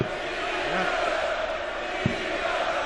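Darts crowd at the 2015 Players Championship Finals cheering for the player, a sustained roar of voices with shouts and chanting in a large hall, under a commentator's speech.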